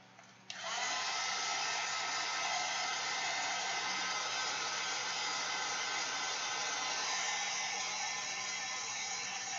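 A hair dryer runs steadily at close range, drying acrylic ink on a mixed-media collage bag, switching on after a brief quiet moment and then holding a loud, continuous blowing whoosh.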